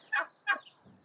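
Hens give two quick clucking calls close by, followed by a faint low murmur, in a farmyard setting.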